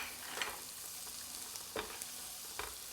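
Garlic frying in melted butter for a Tuscan salmon pasta, a quiet, even sizzle with a few soft stirring knocks, heard close but faint, no speech.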